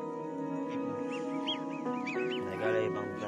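Flock of ducks quacking and calling near a feeding spot, repeated overlapping honks and quacks over steady outdoor background, with someone talking at times.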